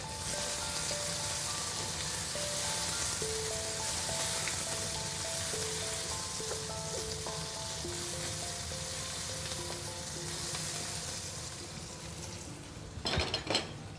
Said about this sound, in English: I'm going to put quite a generous heap of the cooking paste into the wok, and then I'll stir